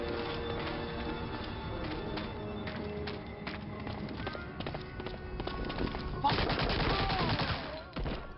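Sustained video-game gunfire rattles in dense, rapid bursts for the whole stretch, mixed with game music and effects, and a heavier, louder volley comes toward the end.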